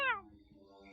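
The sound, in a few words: person imitating a cat meow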